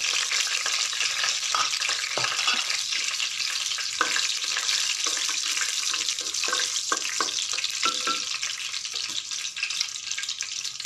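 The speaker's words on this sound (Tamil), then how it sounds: "கடுகு தாளிப்பு" Mustard seeds and curry leaves tempering in hot oil for a Kerala koottu curry with raw mango, a steady loud sizzle and frying crackle with scattered pops, no talking.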